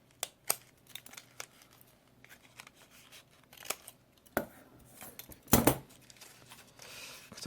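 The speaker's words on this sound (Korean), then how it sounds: "가위로 대각선으로 잘라주세요." Scissors snip paper while cutting pieces for a beginner paper robot tank model. There are several sharp, close snips at irregular intervals, with the loudest cut near the end and no talking.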